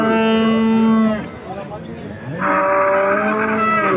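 A cow at a livestock market lets out loud, close moos with long drawn-out calls, separated by a brief pause.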